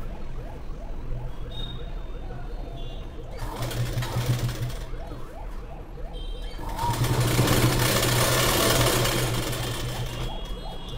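A sewing machine stitches a plain blouse in bursts, its rapid mechanical whirring rising and stopping, up close with a faint background hum.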